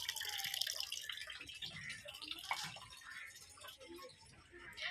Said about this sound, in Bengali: দেখো এই বাইরের থেকে জলগুলো ভরছি